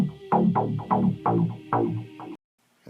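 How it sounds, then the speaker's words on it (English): An EDM bass line with the high frequencies left in plays several punchy, pulsing notes in an uneven rhythm, then cuts to silence. "I took the bass line that we had before"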